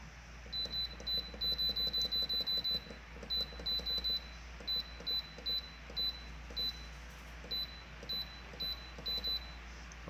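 A kitchen timer set while a pressure cooker cans fish beeps in short repeated bursts, high and steady with brief gaps, over a faint low hum.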